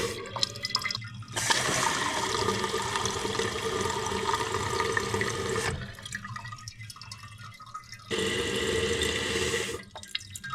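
A toilet flushes twice after its float has been adjusted, each time a loud rushing surge of water lasting several seconds, followed by quieter trickling and dripping as the tank refills between flushes.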